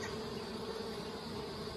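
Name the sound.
honey bees at a hive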